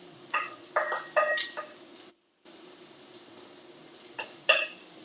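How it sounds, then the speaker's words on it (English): Ginger and garlic sizzling in a pan as they are stirred, a low steady fry with several sharp scraping and clinking spatula strokes, then a short gap before more stirring. "add in the ginger and the garlic, and you stir that for 2 minutes"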